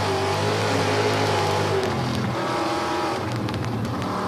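A loud sprint race car engine runs nearby at Eldora Speedway, 1998, its steady drone shifting pitch partway through with the rasp of revving.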